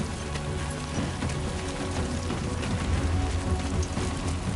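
Rain in the video game Death Stranding 2 makes a dense, steady hiss that stays loud and continuous throughout, with no talk over it.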